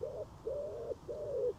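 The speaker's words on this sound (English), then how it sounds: "bloody pigeon" Pigeon cooing in three drawn-out, steady calls, each about half a second long with short gaps between, fairly close and clear with no voices over it.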